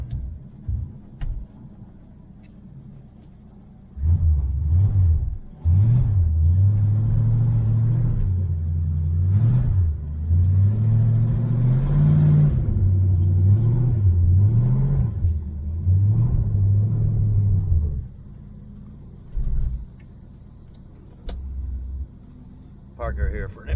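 A 1976 El Camino's engine rumbles steadily up close as the car is moved, with low idling drone and slight rises in revs. Someone talks over it throughout.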